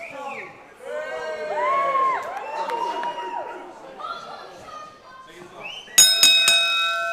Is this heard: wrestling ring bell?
yes